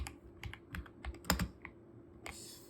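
Typing on a computer keyboard, a quick run of distinct close key clicks in uneven rhythm, alone and fairly faint.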